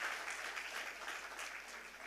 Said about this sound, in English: Can we give a round of applause to the IMA committee?